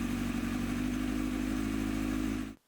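A Kawasaki ZX7R motorcycle warms up while its carburetors are being balanced during a restoration. The engine holds a steady, close idle hum, then cuts off abruptly at the end.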